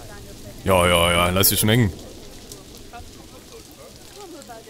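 In the Planet Zoo game, a steady, soft hiss of rain runs throughout, briefly covered by a loud voice near the start and then continuing alone at a low level.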